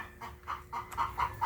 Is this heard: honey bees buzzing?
no